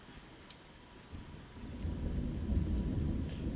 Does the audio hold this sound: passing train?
no